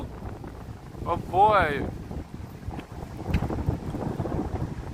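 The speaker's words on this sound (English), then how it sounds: "Wow, it's really windy." Strong wind gusts buffet the microphone on a New York City street during a Manhattanhenge walk, with rumbling low noise throughout and a brief voice exclaiming partway through.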